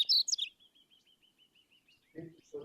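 A Painted Bunting sings outdoors along a riverwalk, a bright high warbling phrase followed by a long string of thin repeated chirps, fairly faint, with brief low murmurs of voices near the end.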